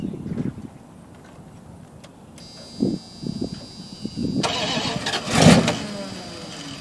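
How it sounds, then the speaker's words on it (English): An old Dodge D150 pickup truck's engine cranks and catches, firing up with a rising roar and a surge of revs, close by, amid workshop clatter and voices. "Let's just hope she starts."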